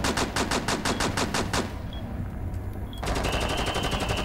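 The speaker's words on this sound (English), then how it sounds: "she's trying to shoot me" Rapid automatic gunfire in Rainbow Six Siege: a fast, loud burst of evenly spaced shots, a brief pause with faint clicks, then another sustained burst.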